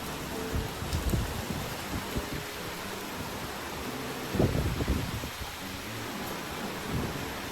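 Steady rain with gusting wind from a super typhoon, a broad continuous hiss with occasional louder bursts and low rumbles, no talking.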